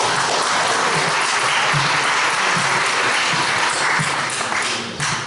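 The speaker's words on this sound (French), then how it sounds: "Pourquoi on peut les applaudir?" Sustained applause from a conference audience, dense and steady throughout, a full crowd clapping loudly without a break.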